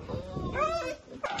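Excited dogs whimper and yip in short, rising whines up close, a quick run of high eager cries.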